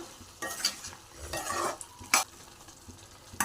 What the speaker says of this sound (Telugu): కోసి పెట్టుకున్న బెండకాయలని వేసుకుందాం ఒకసారి కలుపుకుందాం